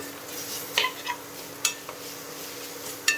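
Maggi masala and vegetables stirred in a pan, a few sharp metallic scrapes and clinks of the spoon over a soft, continuous sizzle, with no talking.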